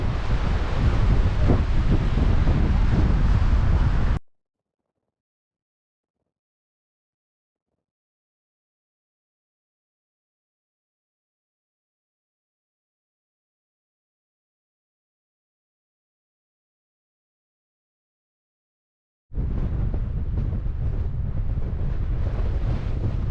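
Strong wind buffets the microphone at Moran Point, a Grand Canyon overlook, as a dense, loud roar. The roar stops abruptly into a long silence, then returns just as heavy.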